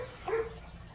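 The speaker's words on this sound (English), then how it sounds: "Excuse my dog. It's an English pointer." An English pointer gives a single short, close bark in a quiet indoor room.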